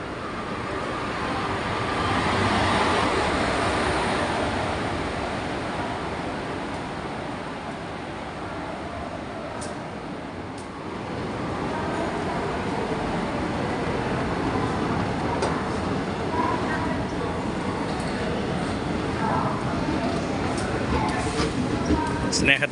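A morning train arrives at Thrissur railway station with a continuous broad rumble that swells and eases as it rolls in, close by and fairly loud.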